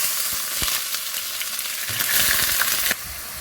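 Chopped onion hits a hot pan and sizzles, a steady crackling fry with a few clinks and stirring scrapes, growing louder midway before dropping off near the end.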